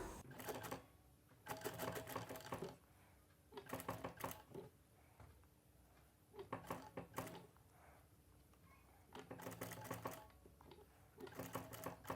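A sewing machine stitches a gold cross piece along the edge of a cotton silk saree blouse in short, quiet bursts of rapid clatter separated by pauses, fairly faint and close.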